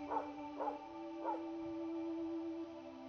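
Three short barks from a dog in the video game Bad Dream Cyclops, evenly spaced and moderately loud over a steady droning tone, followed by a quieter stretch with no speech.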